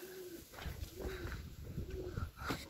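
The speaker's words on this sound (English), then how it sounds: "There's a pigeon now" A pigeon coos softly and repeatedly in a steady rhythm, close by, against faint outdoor background noise.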